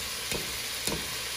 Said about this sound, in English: I'm gonna go ahead and put my 3 tablespoons of my tomato paste in